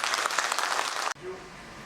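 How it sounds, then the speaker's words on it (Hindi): An audience at a dairy farming talk applauds Dr. Ghosh with a dense burst of clapping that cuts off abruptly after about a second, leaving quiet room tone. "घोष सर के लिए जोरदार ताली बजाइए"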